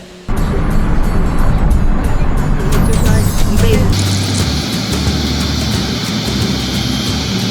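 Bus ride across the airport grounds to Chengdu Tianfu International Airport: a steady, loud engine and road rumble throughout, with rattling and a brief rising whine midway, while people talk over it.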